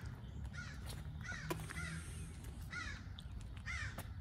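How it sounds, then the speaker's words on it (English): A crow caws outdoors near a 2000-2006 Mercedes S-Class being worked on, a series of rough, repeated caws at moderate distance over a faint steady background hum. "Sorry, it's my pet crow."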